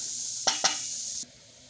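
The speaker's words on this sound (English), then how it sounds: "I'm going to cook my onions until they're nice and golden" Onions cooking in a pan for samosa filling give a steady close sizzle, broken by two quick scraping stir sounds before the frying hiss drops away near the end.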